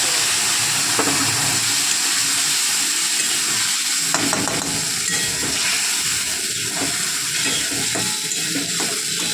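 Bay leaf and cumin sizzle in hot oil for a tempering, a steady loud hiss and crackle that runs throughout with occasional stirring scrapes.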